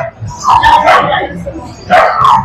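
A Pomeranian dog at a pet market gives two short bursts of sharp, high yapping barks, close by, with people talking in the background.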